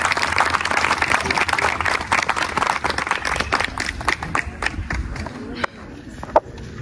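A crowd gives dense applause at a rural women's gathering, loud at first under a busy mix of voices and shuffling. The clapping thins into scattered claps, and a few isolated taps are left at the end.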